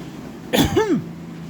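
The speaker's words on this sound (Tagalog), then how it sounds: "inuubo ako ngayon" A single harsh cough, close and loud, followed by a short throaty rasp.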